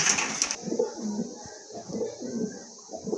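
Club pigeons, each fitted with a tag, coo softly in a loft, with low, faint repeated calls and a brief brighter chirp at the start.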